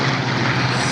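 Vintage piston aircraft engine at the Duxford Flying Legends airshow, flown on conservative settings during an aerobatic display, giving a loud, steady, close drone throughout.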